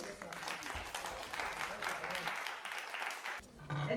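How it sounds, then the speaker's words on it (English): Moderately loud applause from an audience at an engineering college contest during an international conference on sustainable printing and packaging, steady broadband clapping for about four seconds with no speech over it. "Another big round of applause"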